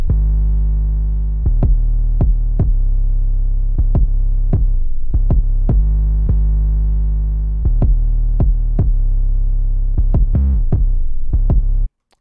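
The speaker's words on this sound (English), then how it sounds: "I sidechained the kick to the 808, so it sounds like this." A loud beat with a deep sustained 808 bass and a punchy kick sidechained to it, so the bass ducks on many hits in a steady rhythm, playing alone for about twelve seconds.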